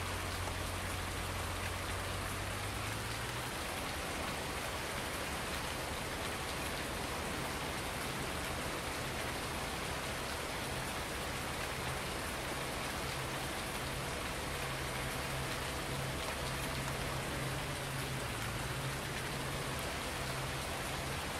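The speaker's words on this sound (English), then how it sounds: "I'm not thrilled with this rain now." Steady rain falls in the farming game Farming Simulator 19, a continuous hiss of drops on surfaces that fills the whole stretch over a low engine hum, with no talk.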